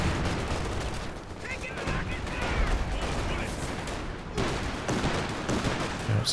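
Gunfire in the World War II strategy game Company of Heroes 2, with rapid small-arms shots and bursts running continuously in a busy battle mix, moderately loud.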